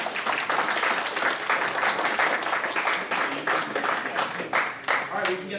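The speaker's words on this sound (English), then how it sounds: "So give a round of applause," A convention crowd at an anime game show applauds, a steady wash of clapping with voices talking over it.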